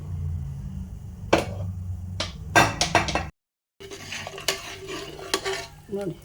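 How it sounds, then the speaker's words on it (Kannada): A pressure cooker of village-style avarekalu and urad dal sambar being opened: close metallic clanks, scrapes and lid rattles in irregular bursts, with a brief moment of silence midway. "ಕುಕ್ಕರ್ ಓಪನ್ ಮಾಡ್ತಾಯಿದ್ದೀನಿ ನೋಡಿ."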